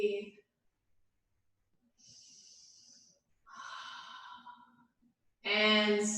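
A person breathes audibly while holding a soft seated yoga twist, with separate exhales and sighing breaths split by short silences, close to the mic. Another breath is louder and more voiced at the end.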